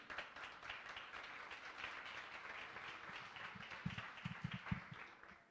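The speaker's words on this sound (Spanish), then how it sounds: "la recibimos con un aplauso" Faint audience applause at an evening parents and teachers workshop talk, a soft steady patter of clapping heard from a distance with a few sharper claps near the end.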